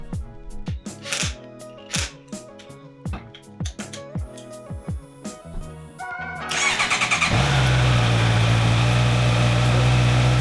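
A motorcycle with a freshly installed battery cranks over in several short rhythmic bursts of the starter, then catches and settles into a loud, steady idle close by, no voices.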